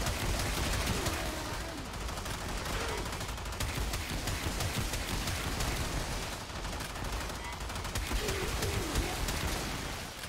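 A Sporelacer kitgun in Warframe fires through a dense, continuous burst of rapid shots against loud game effects and a thick background din, with no break for the full stretch.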